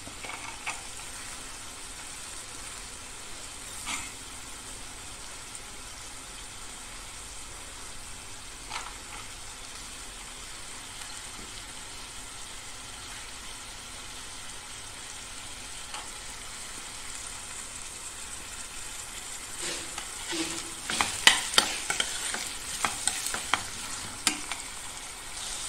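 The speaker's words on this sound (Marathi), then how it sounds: "डाळ घातल्यानंतर ह्याला आपण थोडं परतून घ्यायचं." Onion and soaked lentils sauté in a pan for a bitter monsoon wild leafy vegetable dish, a faint steady sizzle with occasional stirring scrapes that grow busier and louder near the end.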